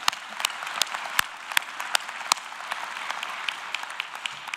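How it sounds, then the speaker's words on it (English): Scattered claps and a soft crowd patter fill a commencement ceremony hall, the ovation steady and moderately quiet with sharper individual hand claps popping out at irregular intervals. "That deserves an applause."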